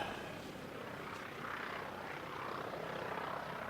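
An airliner, a Jetstar jet, on approach to the airfield at Canterbury in gusty nor'wester conditions, heard as a steady broadband roar that swells slightly midway and holds at a fairly constant, moderate level throughout, with no talk.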